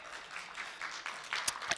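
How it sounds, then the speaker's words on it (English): Brief, faint audience applause at a library talk at Cantigny Park: a soft patter of clapping lasting under two seconds, with a few sharper claps near the end. "Yes, applause."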